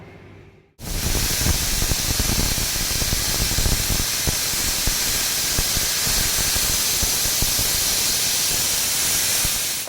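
A pressure cooker cooking goat meat lets off steam, a sudden loud, continuous hissing whistle that bursts in after a brief quiet moment and holds steady and close for the rest of the clip.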